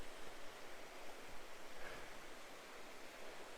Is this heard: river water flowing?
yes